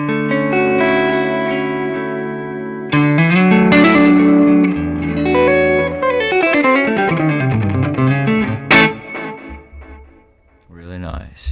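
An electric guitar plays sustained notes and short melodic runs through delay and reverb effects, each phrase trailing off in echoing repeats, clear and fairly loud with a few abrupt attacks near the end.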